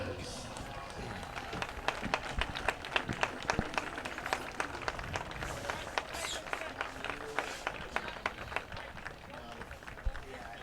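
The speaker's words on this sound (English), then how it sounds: "will you please stand and give all of our seniors a round of applause?" Crowd at a high school football game applauding the seniors, a steady spread of clapping from the stands, fairly distant and moderately quiet, with a voice talking over it.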